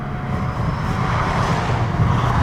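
Audi A6 50 TDI quattro diesel accelerating under throttle, heard from inside as a dense, steady engine and road roar that swells slightly toward the end.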